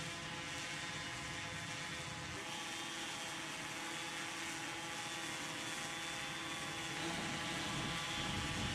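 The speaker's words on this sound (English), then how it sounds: "aircraft has successfully landed" A small unmanned aircraft flies on its propellers as it comes in to land, giving a steady, continuous droning hum with a whine that holds at one level throughout, close by and without any voices.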